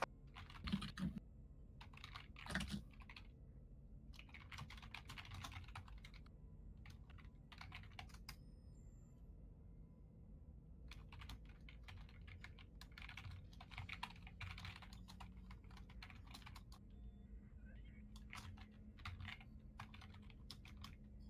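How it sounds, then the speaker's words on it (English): Keys clatter on a computer keyboard in bursts of rapid typing, with short pauses between runs, close and moderately loud over a low steady room hum. "Typing."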